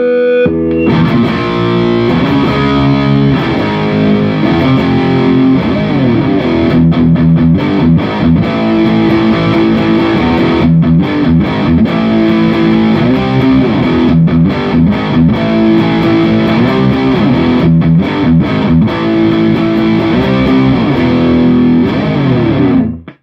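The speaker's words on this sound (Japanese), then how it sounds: "歪みの質感も気持ちいいでしょう。" An electric guitar played through a distortion effects pedal, a loud, thick, saturated tone with sustained chords and riffs running continuously at close range.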